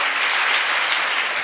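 An audience at a religious discourse breaks into loud, dense applause, a continuous close wash of clapping with no talk over it.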